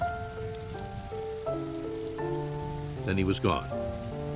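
Steady rain hisses beneath gentle music, with a brief spoken line near the end.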